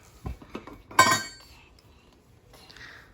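A few light clinks and clatters of small wooden toy kitchen dishes, one brighter ringing clink in the middle, close and brief, with no talking.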